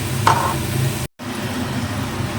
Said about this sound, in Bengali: তো এটা এখন ভাজা ভাজা হতে থাকো